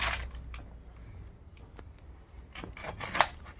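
Boal fish being cut by hand at home, giving short rasping, snipping strokes in a quiet room, with a sharper cluster of cuts near the end.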